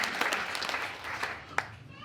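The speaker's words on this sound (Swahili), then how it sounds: "Pigia Yesu makofi mazuri." A church congregation claps during a service: brief, scattered hand claps, fairly faint, mixed with voices.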